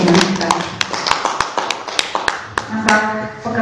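Scattered hand claps ring out at an Indonesian workers' union gathering on layoffs, a sparse, uneven patter of individual claps rather than full applause, with murmuring voices beneath.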